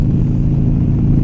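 A motorcycle engine drones steadily while riding with the vents open, a dense low rumble mixed with wind noise running unbroken and fairly loud for a brief moment, with no talking.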